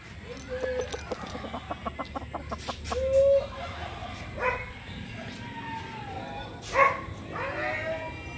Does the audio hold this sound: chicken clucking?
yes